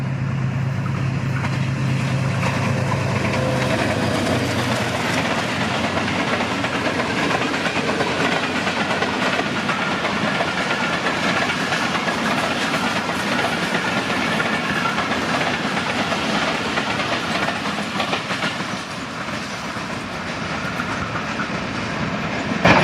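Jaffar Express passenger train running from Quetta toward Peshawar, rerouted via Lahore, passes close by with a steady loud rumble and rolling clatter of wagons across the whole stretch, no voices.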